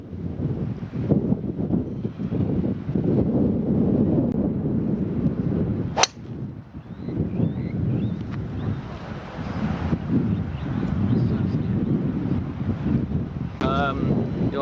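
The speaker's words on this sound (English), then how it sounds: "Wind really took it off to the right because it's blowing quite a bit." Strong wind buffets a microphone on a golf course, a continuous loud low rumble and roar with gusty swells, one sharp click partway through, and some faint talk mixed in.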